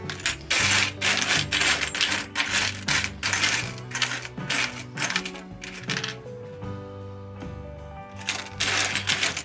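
Old coins, including a Spanish peseta and a green-tarnished penny, clink and rattle repeatedly as they are handled and sorted, with loud, close metallic jingles and scattered drops throughout.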